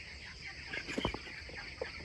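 Hens in a poultry farm, frightened by a wild bird trapped inside, give a few short nervous clucks and squawks close by over a low background hum.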